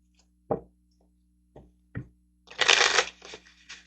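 Tarot cards being handled and drawn: a few soft separate taps and slaps of cards, then a short riffling shuffle burst, close and quiet with no talk.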